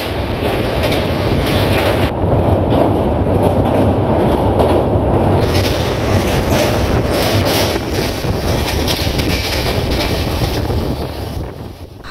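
The Howrah–Barbil Jan Shatabdi Express rumbles along the track on the Howrah to Kharagpur stretch, a loud steady roar with wind buffeting and faint clickety-clack, sustained for the whole stretch.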